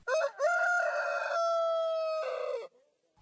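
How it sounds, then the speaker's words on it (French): A rooster crows a single long, loud cock-a-doodle-doo close by, rising, holding a steady drawn-out note, then breaking off into silence. "le coq qui se trompait d'heure tous les soirs et qui, tous les soirs, saluait une aurore prématurée."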